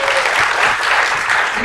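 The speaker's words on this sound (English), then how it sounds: "Can you give her a round of applause for coming up here?" Audience applauding a volunteer who has just come up on stage at a training session, a dense, steady wash of clapping that fills the short moment at full loudness.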